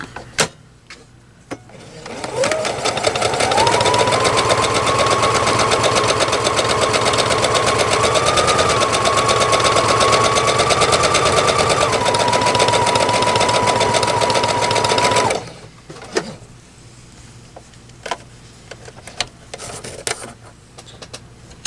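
A home sewing machine stitches a felt gift bag in one long steady run lasting about thirteen seconds, a loud close whirring hum, followed by quieter clicks and handling noises.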